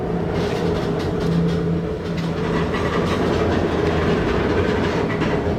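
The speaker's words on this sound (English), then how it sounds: "We're already moving without the train coming past." A freight train rumbles past close by, with steady rolling clatter and a low continuous roar throughout.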